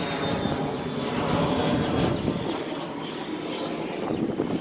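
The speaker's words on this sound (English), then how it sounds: "Oh, jet." A jet roars overhead, a steady broad rumble that stays loud throughout with a faint touch of wind noise.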